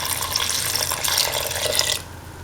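Coconut milk pours into a pan in a continuous liquid splash for about two seconds, close and fairly loud, before cutting off.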